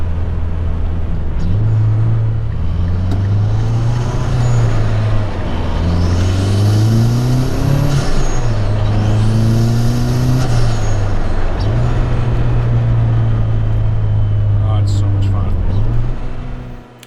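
A 2012 Mazdaspeed 3 with a COBB intake and turbo inlet pipe revs repeatedly, engine pitch climbing and falling in loud, close, continuous sweeps with the hiss of air through the intake.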